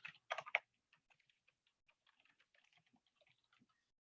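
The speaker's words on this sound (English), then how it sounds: "now I can type in a message." Typing on a computer keyboard close by: a few louder clustered key presses at first, then a sparse, soft run of light clicks tapering off.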